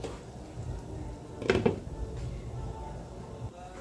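A lid is set down onto a cooking pot of pork nilaga with cabbage and sweet potato, giving one brief metallic clatter over a low steady kitchen background.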